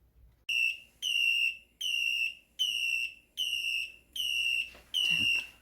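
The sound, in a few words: egg boiler alarm when eggs are done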